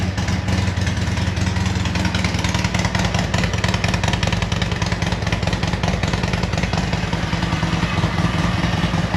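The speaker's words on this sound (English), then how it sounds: "So now all the exhaust is going out of the back instead of wherever it wants." A Harley-Davidson motorcycle engine with a blown head pipe weld runs steadily nearby, loud and rough with a rapid rattling exhaust pulse that never lets up.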